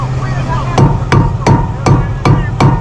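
Six evenly spaced non-marring hammer strikes on a boat part land in a steady rhythm, each a dull, close knock without a metallic ring, over a low background hum.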